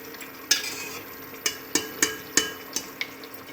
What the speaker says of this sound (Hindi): अब इसको थोड़ी देर चलाएंगे।